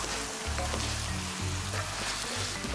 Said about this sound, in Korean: 김치를 넣고 살짝 한 번 더 볶아줍니다